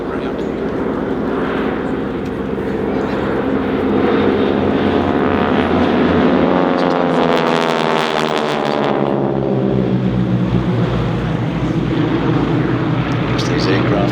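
A T6 Harvard propeller plane roars past at an airshow, its engine note swelling and shifting as it flies by, with talk heard alongside the steady drone.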